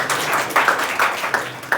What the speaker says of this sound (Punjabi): ਬਹੁਤ ਬਾਈ ਤਾੜੀਆਂ ਮਾਰੋਗੇ